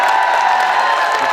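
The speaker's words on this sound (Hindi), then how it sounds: "आपकी तालियों का घनत्व कम है और हो की आवाज ज्यादा है" An audience at a comedic Hindi poetry recital at the Jalore Mahotsav kavi sammelan breaks into a loud, brief burst of clapping mixed with shouted whoops.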